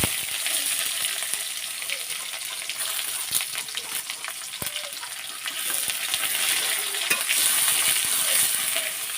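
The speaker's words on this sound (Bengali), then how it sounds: "পেঁয়াজটা আমি ভালোভাবে লাল লাল করে ভেজে নেব।" Chopped onions fry steadily in hot oil in a pan for a village-style masoor dal bhuna, a continuous close crackling sizzle with occasional sharper pops and spatula scrapes, no voices.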